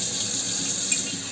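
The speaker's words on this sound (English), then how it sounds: "Let the water run." Tap water runs steadily from a kitchen faucet, a close, even hiss with no break and no talking.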